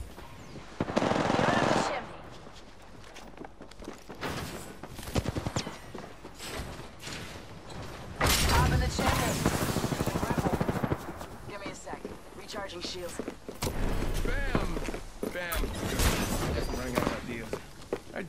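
Automatic gunfire in CS:GO on the Mirage map comes in several loud, sustained bursts separated by quieter stretches, with voices talking between and over the shooting.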